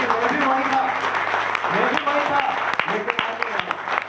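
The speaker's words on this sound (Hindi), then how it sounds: "आज आप हमारे लिए ताली बजा रहे हैं" An audience claps together in a hall at a recognition event, a dense steady patter of many hands under someone speaking loudly over it.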